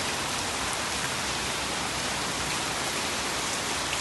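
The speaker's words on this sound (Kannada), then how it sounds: "ನೋಡಿ ಎಷ್ಟು ಜೋರಾಗಿ ಬೀಳ್ತಾ ಇದೆ ನೋಡಿ ಮಳೆ." Heavy rain pours steadily in Bangalore, a dense, even hiss of falling water that holds at the same loudness from start to finish with no voices.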